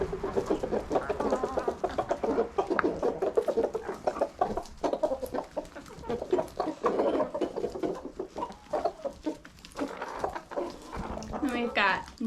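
Chickens cluck busily nearby, a flurry of overlapping clucks and squawks, with a person talking at times over them.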